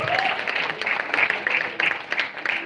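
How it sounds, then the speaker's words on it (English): An audience applauds the parents at a cast interaction event, a steady, dense round of clapping that carries on throughout with faint voices mixed in. "So let's have a huge round of applause for all the parents."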